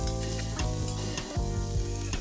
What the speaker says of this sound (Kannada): ಅದಕ್ಕೆ ಈರುಳ್ಳಿ ಹಾಕಿ ಅದು ಟ್ರಾನ್ಸ್ಪರೆಂಟ್ ಆಗೋ ತನಕ ಬಾಡಿಸ್ಕೋಬೇಕಾಗುತ್ತೆ.